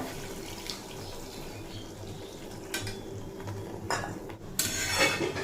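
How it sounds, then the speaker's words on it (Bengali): Water goes into a pan of moong posto curry in a home kitchen, with faint clinks of cookware and a soft trickle before a louder pour near the end, heard close with no talking. "এরপর এড করে দেব পরিমাণ মতো জল"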